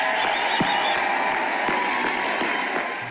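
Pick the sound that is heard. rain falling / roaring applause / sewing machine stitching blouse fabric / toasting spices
roaring applause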